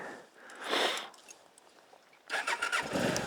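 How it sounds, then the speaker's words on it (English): A Honda NT650V Deauville motorcycle from 2004 cranks with a brief whirring starter, pauses, then fires up and settles into a steady, close engine rumble. "The bike seems to start first time every time"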